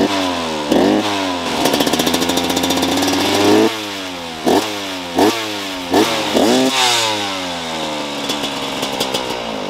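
A 2008 Husqvarna 125 CR two-stroke dirt bike engine revs loudly nearby, its high buzzing pitch sweeping up and down with repeated throttle blips, no voices.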